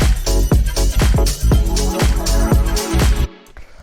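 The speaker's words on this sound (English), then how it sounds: "It's just like an E-piano Rhodes sort of sound." An electric piano with a Rhodes-style tone, treated with saturation and a high-pass filter, plays a grooving deep house chord pattern of rhythmic, repeated stabs, loud and upfront, stopping abruptly near the end.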